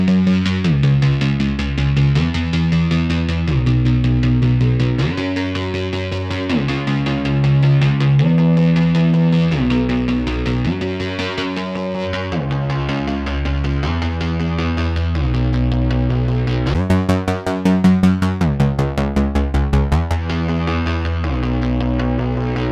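Electric guitar played through a Bogren Digital amp simulator with a drive pedal adding gain, heard alone as loud, steady distorted chords with chorus-like shimmer across the whole stretch.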